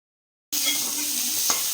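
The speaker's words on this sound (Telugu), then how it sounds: "అదే కడాయిలో 2 స్పూన్స్ ఆయిల్ వేసుకొని 2 పచ్చిమిర్చి, కట్ చేసినటువంటి హాఫ్ ఉల్లిపాయ కొంచెం వేగాక" Green chillies and sliced onion sizzle in a couple of spoons of hot oil in a kadai, a steady close hiss that starts abruptly after a brief silence, with one small clink of stirring partway through.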